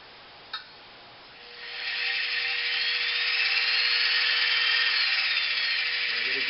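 A modified bead rolling machine works a metal flange for sheet metal art, a steady high-pitched whirring grind that rises after a brief click and then holds evenly and close up.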